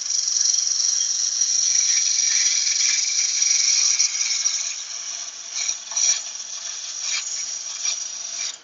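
Yew wood turned into a vase on a lathe gives a steady, high, hissing scrape of the tool on spinning wood, continuous and moderately loud, easing off and turning more uneven toward the end.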